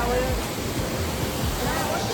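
Water of a waterfall crashing down onto rocks and throwing up fine spray, a steady loud broadband rush that fills the whole scene without pause.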